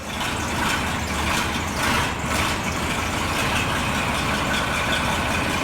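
A John Deere 4020 diesel tractor running just after a chilly cold start, a loud, steady rumbling engine close by with a rough throbbing idle and a slight rise in revs.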